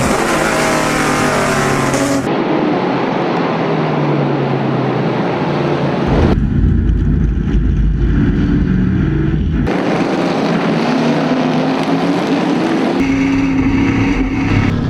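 Historic Trans-Am race cars pulling away at the start of a wet race, a loud, continuous roar of several engines revving and changing gear up close, with tyre and spray noise and no talking.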